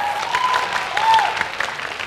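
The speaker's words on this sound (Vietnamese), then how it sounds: "tất cả những tràng pháo tay dưới đây cũng đã thể hiện được điều đó" Audience applause following a singing performance on a televised talent contest, a steady dense patter of clapping for about two seconds with no clear voices.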